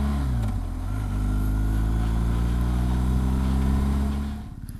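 Motorcycle engine on a street, loud and close, holding a steady mid-pitched drone for several seconds and then pulling away as the sound drops and fades near the end.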